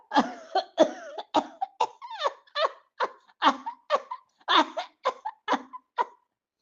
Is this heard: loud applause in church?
no